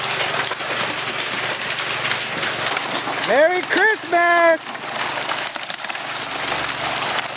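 Steady rain falls outdoors at a fish stocking spot, a constant broad hiss that runs throughout, while a voice briefly calls out a greeting partway through.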